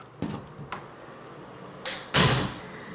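Closet doors in a model home's master bedroom are opened, giving two soft thuds early on, then a louder sliding rumble and clack near the end, close by with no talking.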